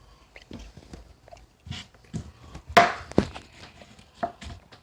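A knife cuts through an onion on a cutting board in a series of separate, uneven crunching strokes, with a sharper slicing crackle partway through and quiet gaps between cuts.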